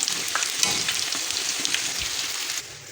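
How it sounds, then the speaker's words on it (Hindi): Keema bread rolls fry in hot oil with a close, dense crackling sizzle that stops abruptly near the end. "ये देखें, रोल मेरे फ्राई हो गए हैं"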